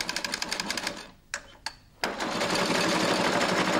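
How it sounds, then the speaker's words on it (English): A Flexorand Speedbinder sews binding tape onto carpet with a rapid, steady mechanical stitching patter, pausing briefly with a few sharp clicks before the machine resumes at full speed, loud and close with no talk. "Lower the top roller and carry on sewing."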